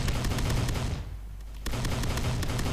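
Loud, dense video-game gunfire from weapons with heavy recoil, rapid shots running continuously with a brief lull near the middle before the burst resumes.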